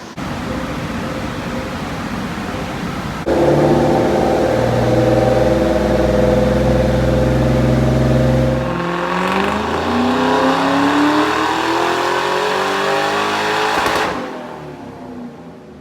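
A stock 2004 Ford Mustang Cobra runs on a dyno, climbing in pitch under load through a loud pull, easing back, then rising again before cutting off sharply near the end, with no talking.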